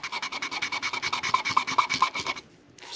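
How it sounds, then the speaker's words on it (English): A pen or pencil scratches out a timing belt routing diagram on paper for a Saturn VUE 3.0 V6, a close, quick run of rhythmic rubbing strokes that stops abruptly near the end. "So we're going to draw the diagram just as it goes."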